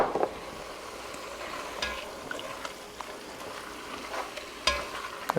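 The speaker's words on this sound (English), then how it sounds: "Gotta keep stirring it" Beef coated in flour sizzles softly in a pan for steak and peppers, with faint scattered scrapes and taps of a stirring utensil.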